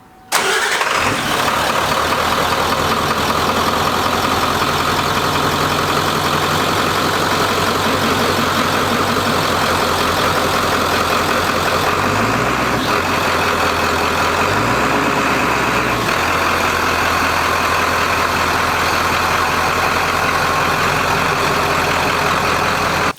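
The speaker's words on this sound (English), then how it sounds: "you start the truck up, you let it idle for 5-10 minutes" A Ford truck engine starts and then settles into a steady, loud idle close by, its low rumble holding even with a couple of brief shifts in pitch midway through.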